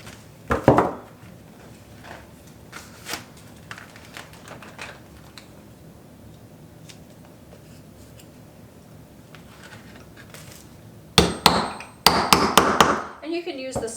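A hammer taps push pins in, with scattered sharp knocks early on and a cluster of louder, rapid strikes near the end, and a voice talks faintly in between.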